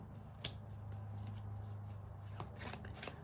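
Tarot cards are shuffled up close, giving soft, quiet riffling and flicking sounds with a few sharper snaps.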